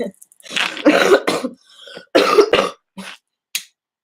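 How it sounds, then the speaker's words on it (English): Several harsh, close coughs in quick bursts, separated by short silences, ending with a brief final hack. "I've been having this cough for a minute though."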